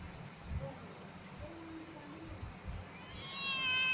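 A domestic cat gives a single rising meow at the very end, following a few seconds of low murmuring and background noise.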